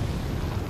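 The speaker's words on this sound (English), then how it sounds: "I'm gonna throw a frag over there." A frag grenade blows up in Resident Evil 4, a loud, dense, rumbling blast that fills the whole brief moment with broad noise and no clear onset or tail.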